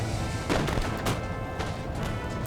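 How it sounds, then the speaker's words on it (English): Cannons fire in an Empire: Total War battle, a series of sharp booming blasts over a dense rumbling battlefield din, several shots within a couple of seconds. "Keep my cannons firing at these dudes."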